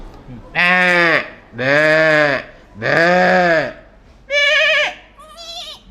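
A voice imitates a goat's bleat in three long wavering calls, followed by two shorter bleats, loud and close.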